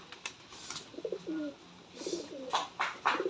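Rajshahi Giribaz pigeons on a farm cooing in soft, low, rolling phrases close by, joined by a few sharper flutters and clicks near the end, with no talking.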